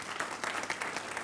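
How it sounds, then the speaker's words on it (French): A small crowd applauds steadily, a dense patter of many hands clapping at moderate volume with no voices over it. "Merci d'applaudir."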